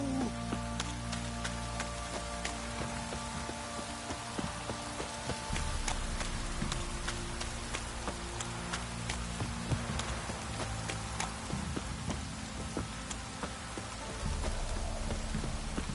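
Heavy rain downpour in The Witcher 3, a steady broadband hiss of rainfall running continuously throughout at moderate level, with scattered sharper drop ticks and no voices.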